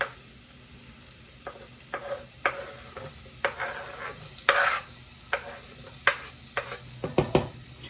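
Onion whites, garlic and regular onion frying in a pot, a steady gentle sizzle broken by irregular spoon scrapes and knocks against the pot, close and moderately quiet.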